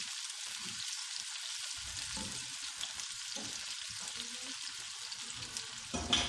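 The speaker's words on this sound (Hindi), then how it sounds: "इसी तरह फ्राई हो जाए फिर इसके अंदर और चीज़ें डाल लेंगे" Eggplant frying on a flat griddle pan gives a steady close sizzle with crackling spits throughout, and a brief louder flare near the end; no one speaks.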